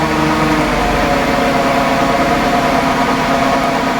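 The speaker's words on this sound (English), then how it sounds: "the engine is running" A Ford Freestyle's engine idles steadily at close range, a constant low hum with a faint whine and no voices over it, while the check engine light stays lit.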